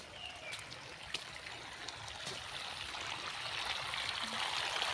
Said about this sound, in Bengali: এই জমিতে জল দিতেছে মোটর দিয়ে